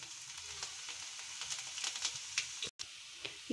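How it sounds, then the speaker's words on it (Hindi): Cumin seeds and garlic frying in hot oil in a kadai, giving a steady close sizzle with light crackles and a brief dropout near the end, no talk. "ज़ीरा भी फ्राई हो गया है, अब लहसुन फ्राई करेंगे।"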